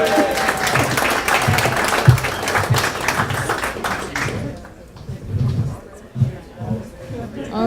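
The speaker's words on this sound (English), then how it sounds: "And now for the applause part." Audience at a blockchain center ribbon-cutting ceremony applauds loudly for about four seconds, then the clapping fades into crowd chatter and murmuring voices.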